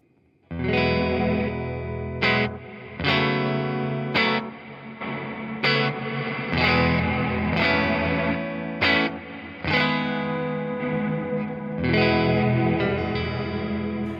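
Distorted electric guitar chords ring out in short bursts through a reverb pedal with MIDI-controlled mix level, a wash of reverb and chorus, the ambient tail swelling and shrinking between strums.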